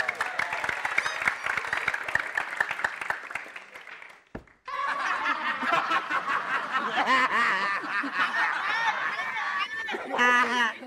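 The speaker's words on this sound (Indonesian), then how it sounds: "Tepuk tangan lu dong" A studio audience claps and laughs for the band on a comedy show. Rapid clapping fills the first four seconds before a brief dropout, then chuckles, chatter and snickering continue, with a further burst of clapping near the end.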